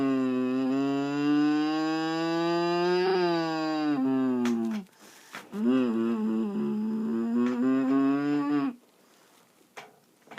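A voice imitates a motorbike from the back of the throat, giving a long, loud, buzzing drone that rises and falls in pitch like a revving engine, with a short break partway through before it resumes.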